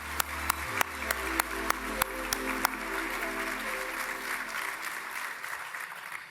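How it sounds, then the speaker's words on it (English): A conference audience at a keynote opening claps in warm applause that swells with a few sharp, close claps, then thins out and fades away. "Let's give her another round of applause"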